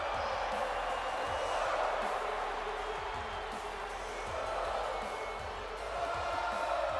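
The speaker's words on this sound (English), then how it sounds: "We're just sort of letting the crowd do their thing." A WrestleMania crowd in the video game WWE 2K22 roars in a steady, broad wash of cheering that swells and dips slightly, with a voice talking faintly underneath.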